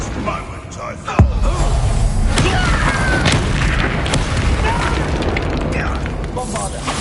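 A Bombarda spell explosion in the video game Hogwarts Legacy goes off with a sharp booming blast about a second in, then a dense rumble and crackling debris carry on through the rest of the clip.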